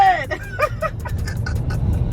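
A car on the road gives a low engine and road rumble from inside the cabin, with a brief burst of voices or laughter at the start before the drone carries on alone.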